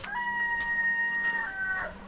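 Nearby chickens clucking and a rooster's drawn-out call on a farm, with faint outdoor ambience underneath.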